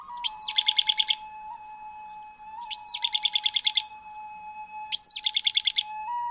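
A boreal chickadee sings three evenly spaced phrases. Each is a sharp high note followed by a rapid buzzy trill, clear and close, with no other sound behind them.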